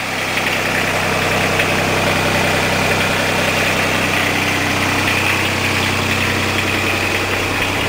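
A diesel engine runs steadily and evenly at idle without a break, a loud, continuous close rumble with a vibrating texture and no speech over it.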